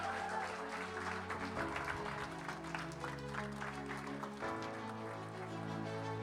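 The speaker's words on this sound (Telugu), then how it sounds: "తన కోసం గట్టిగా చప్పట్లు కొట్టాలి." Applause from an audience at a staff awards night, a busy patter of clapping over sustained background music, moderately faint.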